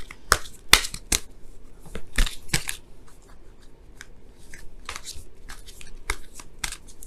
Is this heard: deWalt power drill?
no